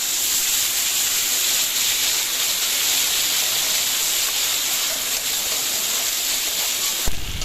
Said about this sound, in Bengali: এবার কড়াইতে একটু তেল গরম হতেই তাতে দিয়ে দিলাম কালো জিরে আর বাটা সর্ষেটার মধ্যে কিছুটা পরিমাণে হলুদ মিশিয়ে কড়াইতে দিয়ে দিলাম।